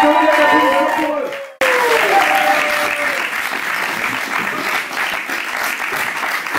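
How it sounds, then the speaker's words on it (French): A theatre audience bursts into loud, sustained applause for a theatre company, with a voice and tonal sound just before it and cheering crowd noise mixed into the continuous clapping. "Attendez l'applaudissement pour eux."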